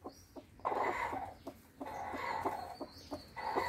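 A hen settled on eggs inside a basket coop among trees gives repeated soft, throaty clucks and murmurs, close and moderately loud, in an uneven rhythm with short gaps.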